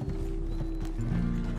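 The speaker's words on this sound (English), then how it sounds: "Freaking horse got startled." A startled horse in Red Dead Redemption 2 whinnies and snorts amid clip-clopping hooves, set against a steady low rumble of game ambience, fairly close and with no speech.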